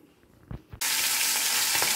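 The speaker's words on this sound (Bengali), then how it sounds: "এরকম মাছগুলো ভেজে নিলাম। ও মাছগুলো ভাজা হয়ে গেছে।" Hilsa fish pieces hit hot oil in a pan, and a sudden loud, steady sizzle and crackle bursts in after a few soft kitchen knocks, then continues close and unbroken.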